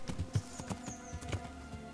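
A horse's hooves clop in a steady, even rhythm in Kingdom Come Deliverance, faint and moderately close, with no talking.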